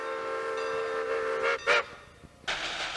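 A Baldwin 4-6-2 Pacific steam locomotive on a heritage tourist railroad in Texas, with a sustained harmonic whistle tone, brief bursts of hissing steam and a loud whistle return near the end, no talk.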